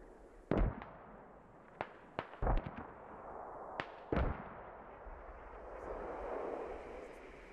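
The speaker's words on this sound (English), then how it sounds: "I'll call in the smoke barrage right now." Smoke barrage artillery shells landing in the military shooter game Squad: a handful of sharp, irregularly spaced booming impacts over a steady low rumble, with no voices.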